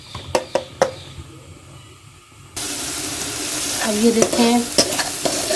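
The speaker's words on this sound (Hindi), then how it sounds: "अब ये प्याज को हम लाइट ब्राउन करके" Onions fry and brown in a pan for lamb karahi, first as a few sharp stirring clicks and then as a loud, steady sizzle, with a voice speaking briefly over it.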